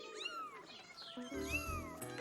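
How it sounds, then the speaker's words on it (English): A cartoon mother cat protecting her kittens lets out drawn-out, wavering meows close up, with a short caterwauling edge near the end under some soft background tones. "Caillou was frightened by the angry cat."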